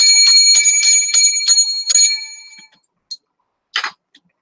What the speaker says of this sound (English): another 7 lucky bells for the show